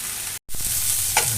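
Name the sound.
frying snake gourd in a pan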